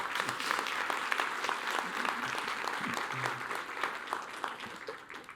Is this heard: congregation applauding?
yes